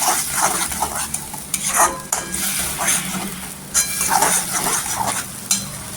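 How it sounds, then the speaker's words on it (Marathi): Tomato puree being stirred into sautéed masala in a pan while cooking Mumbai-style bangda fish curry, with steady scraping and stirring strokes over a continuous soft sizzle, close and moderately loud, no talking. "इथे मी 2 ते 3 टोमॅटोची आहे ना प्युरी बनवलेली आहे, ती टाकून घ्यायची."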